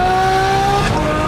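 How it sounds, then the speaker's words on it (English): Straight-piped 6.3 liter naturally aspirated V12 supercar exhaust, a loud, steady, continuous engine note held close by for about a second with no talking. "What a heavenly exhaust note from this thing."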